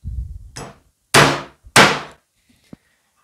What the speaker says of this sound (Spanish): vamos a golpear con un martillo.